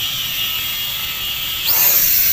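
An 801C drone's motors hum with a smooth, steady high-pitched whine during a test flight, then swell louder and higher near the end.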